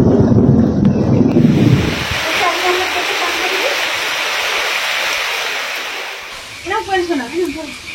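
In a village thunderstorm with loud thunder, dense roaring wind and heavy rain wash over everything after a couple of seconds, with people talking briefly at the start and again near the end.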